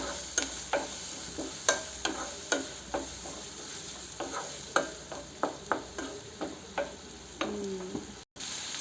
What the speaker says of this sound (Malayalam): സവാള ഒന്ന് നല്ല രീതിയിൽ വഴന്നു വരട്ടെ.